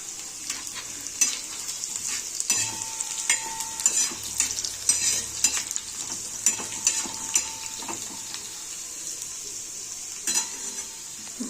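Plenty of garlic sizzling and frying in oil in a pan on a griddle, a steady crackling hiss with intermittent stirring scrapes and clinks of a spoon against the pan, up close.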